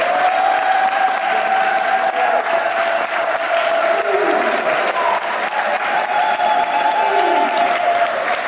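Wedding guests applaud newlyweds Victoire and Roland in church just after the couple are declared married, steady dense clapping filling the space from start to finish with a faint murmur of voices underneath.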